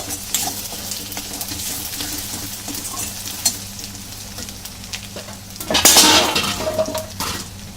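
Spice paste with Kashmiri red chili powder stir-fried in a pan for a fish curry, a close, steady sizzle with scraping and clinks from a utensil, then a louder burst of frying near the end.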